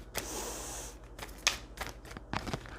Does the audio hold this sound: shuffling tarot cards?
yes